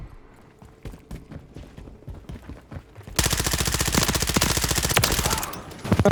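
Rapid automatic gunfire in the video game Call of Duty Modern Warfare 3, a loud sustained burst of closely spaced shots in the second half, preceded by quieter scattered single shots and footsteps.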